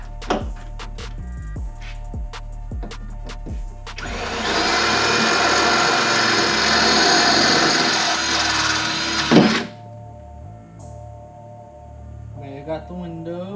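A power drill runs inside a BMW E36 during a budget stance build, a loud, steady whirring whine lasting about five seconds after some light clicks and knocks, then cutting off with a thump before quieter handling sounds.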